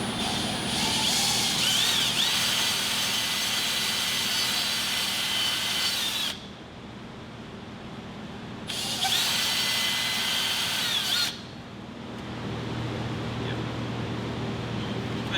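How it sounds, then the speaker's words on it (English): A power drill whines in two long runs with a pause between, boring into a rubber grommet on a Nissan Kicks, its pitch wavering as it bites, over a steady low background hum. "Sometimes drilling these grommets, it's like you cannot get them to drill."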